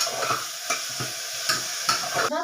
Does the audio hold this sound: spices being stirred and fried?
yes